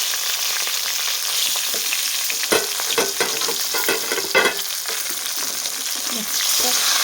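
Eggplant frying in oil in a pan for a quick Maharashtrian-style brinjal curry gives a continuous close sizzle, with repeated spatula clacks and scrapes as the pieces are turned and lifted.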